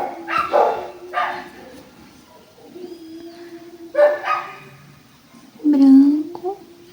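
Dogs bark outside a window on a rural property by the street: several sharp, loud barks in separated bursts with quieter yips and whines between them.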